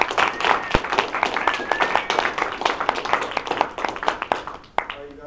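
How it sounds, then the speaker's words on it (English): A small meeting audience claps for first-time speakers after their icebreaker speeches, a dense patter of individual handclaps lasting several seconds and thinning at the end, with faint voices. "I want to give another round of applause to all of our first timers tonight giving their icebreaker speeches"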